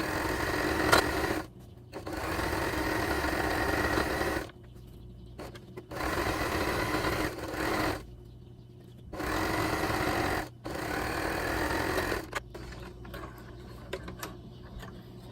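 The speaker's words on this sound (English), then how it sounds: "Okay, so I'm gonna sew them together." A sewing machine stitches quilt pieces together in several bursts of steady, rapid whirring, each run lasting a couple of seconds and separated by short pauses, heard close and clear with no talking.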